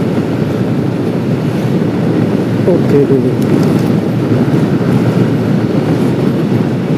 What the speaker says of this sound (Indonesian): Ini kereta api, hati-hati.